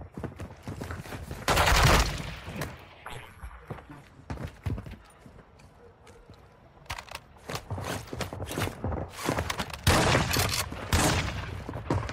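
Gunfire in Call of Duty DMZ, bursts of loud rapid shots that come in clusters with quieter gaps between them, with some faint game sounds in the background.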